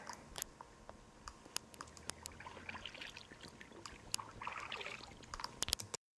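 A kayak paddles along the river at Horseshoe Bend beneath cliffs more than 1,000 feet high. Faint, irregular splashes and drips from the paddle strokes sound close by over a quiet, soft background.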